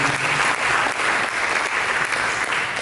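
A church congregation claps together in praise of Jesus during a sermon, a dense, loud and continuous wash of applause from a full room that holds steady throughout.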